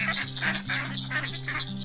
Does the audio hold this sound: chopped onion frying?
no